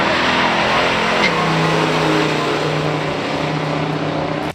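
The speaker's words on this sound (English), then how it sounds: "It carried a 455 cubic inch V8 engine that made 510 pound-feet of torque." 1970 Buick GSX Stage 1 with a 455 cubic inch V8 revving, a loud, dense roar whose pitch climbs briefly and then settles into a steady, rumbling drone.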